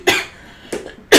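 Several sharp, close coughs in quick succession, loud bursts separated by brief quiet gaps, with no talking.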